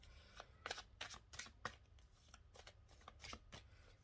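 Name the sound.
shuffling tarot cards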